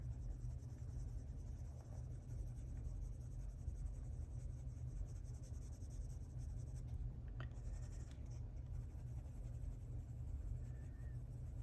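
Colored pencil strokes rub steadily on paper while a page of a Hanna Karlzon Daydreams coloring book is filled in, a soft continuous scratching, faint and close, with no talking.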